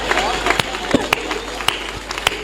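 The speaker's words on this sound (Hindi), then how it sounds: "ताली जरा बजा" Scattered claps with a few sharp hand slaps over a steady murmur of crowd noise at a Hindi poetry recital, where a poet is reciting verses; the applause is thin rather than a full ovation.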